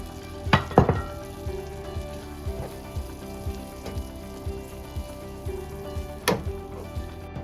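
Plant-based butter and cheese sizzle in a pan while being stirred, a soft continuous frying crackle broken by periodic scraping strokes and a few sharper knocks, close and moderately quiet, with no talking.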